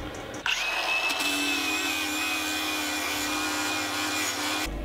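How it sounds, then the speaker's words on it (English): An angle grinder with a flap disc cleans a rusty bracket on a Ford Escort Cosworth, spinning up with a sharp start into a steady, loud, close whine with grinding contact that holds for several seconds before cutting off. "So with this flappy disc on the grinder, we'll take that bracket a little bit further back"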